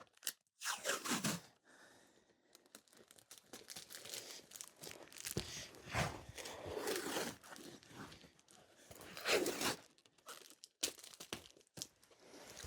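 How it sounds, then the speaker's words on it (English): Packing tape is pulled off the roll and wrapped around a packed item while preparing a house move: soft crinkling, tearing and rustling bursts come in irregular spurts, close but fairly quiet, with no talking. "Once we've got that, a little bit of tape to secure it."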